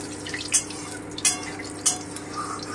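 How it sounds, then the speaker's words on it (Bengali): Cumin, bay leaf and dried chillies fry in oil over lowered heat, with three sharp crackling pops spaced evenly over a faint, steady background sizzle. "একটু ভেজে নিচ্ছি।"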